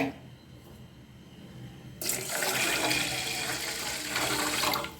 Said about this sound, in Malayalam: രണ്ട് കപ്പ് വെള്ളം ഒഴിച്ചിട്ടുണ്ട്